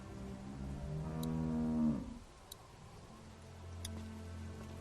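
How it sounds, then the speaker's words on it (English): A cow moos once in The Walking Dead game, a long, loud, drawn-out low call lasting about two seconds, followed by quieter ambient farm background with faint ticking. "How do you like that cow, Clem?"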